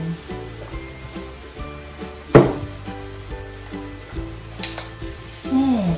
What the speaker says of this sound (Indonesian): Kita tumis sampai harum.